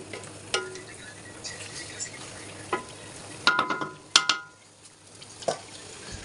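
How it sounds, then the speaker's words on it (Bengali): Meat being stirred in a cooking pot, with a soft sizzle underneath and several sharp scrapes and clinks of a utensil against the metal, the loudest knocks coming in quick pairs near the end. "ভালো করে নেড়ে চেড়ে ঢেকে দিব যাতে মাংসটা সেদ্ধ হয়ে যায় ভালোভাবে"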